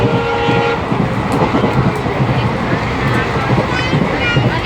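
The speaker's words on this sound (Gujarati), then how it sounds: "અને ટ્રેનનો અવાજ પણ આવી રહ્યો છે." A train passes close by, loud and continuous with a rumbling roar and rattling wheels, a brief horn-like tone near the start, while someone talks over it.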